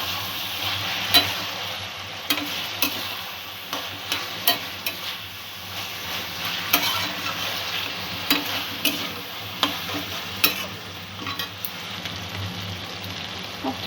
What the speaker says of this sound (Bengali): সব কিছু আবারও একটু নাড়িয়ে দেবো